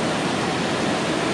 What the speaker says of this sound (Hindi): नाला है, बहुत तेज पानी की धार है